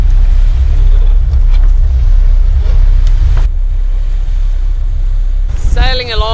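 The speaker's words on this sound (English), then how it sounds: "The wind's gradually built up to 20 to 24 knots." Strong 20 to 24 knot wind and waves surround a yacht sailing at sea, a loud, constant low roar of wind buffeting the microphone, with a voice speaking briefly near the end.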